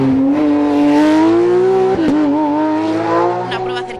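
A GT3 race car at the Chantada hill climb in the Galician Mountain Championship roars loud and close, its engine pitch climbing under high revs, with a brief dip like a gear shift midway before pulling hard again.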